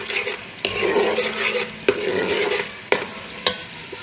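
Onions browning in a pan sizzle steadily up close while a spoon stirs them, its scrapes and sharp clinks against the pan repeating every second or so.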